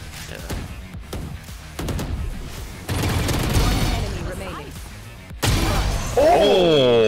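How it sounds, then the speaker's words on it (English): Gunfire in Valorant, several sharp loud shots and bursts in quick succession, close and punchy, mixed with other game effects and a rising tonal sweep near the end. "Oh, you're shooting. You are shooting."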